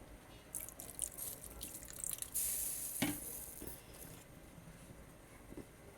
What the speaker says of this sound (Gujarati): હવે પાણી નાખી જેટલો રસો કરવો હોય એવો કરવાનો.